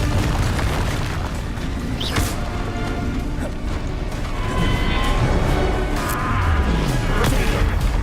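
Bombarda and Confringo explosion spells in the Hogwarts Legacy video game, a dense run of booming blasts and crashing impacts layered over continuous battle noise, loud and close throughout.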